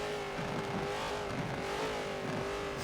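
A BMW Z4 GTE race car at Sebring brakes into the final hairpin, its engine a steady, fairly loud drone with no clear pauses.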